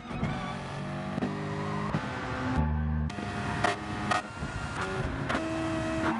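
Racing car engine in the Gran Turismo video game, a Mitsubishi Lancer Evo GR3 livery, steady engine tone with gear-like pitch shifts and brief spikes throughout, loud and continuous with game music-like harmonics.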